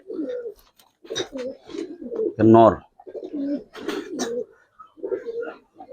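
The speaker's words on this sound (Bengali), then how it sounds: "এটা একটা কবুতর দেখেন" Giribaz coloring pigeons, including round-headed pairs offered for sale, coo in short bursts close by, one loud warbling call standing out midway while someone talks intermittently around them.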